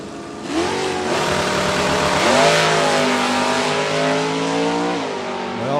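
A yellow Ford Mustang drag car at a Super Stock drag race rolls with a loud, close engine, revving up and down in smooth rising and falling sweeps with no other sound.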